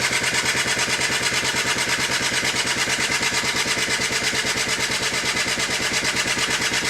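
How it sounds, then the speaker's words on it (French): An electric-start motorcycle engine running steadily in a garage, giving a continuous rapid, even puttering roar close by with no talking over it. "c'est une moto électrique, ça marche au démarreur"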